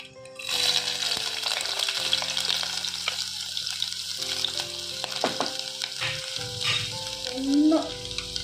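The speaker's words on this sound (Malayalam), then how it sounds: "കടുക് പൊട്ടി ഇനി നമുക്ക് വെളുത്തുള്ളി ഇഞ്ചി ഇടാം." Garlic and ginger sizzle in hot coconut oil with mustard seeds, a steady close frying crackle with a few stirring clinks and scrapes and no talk.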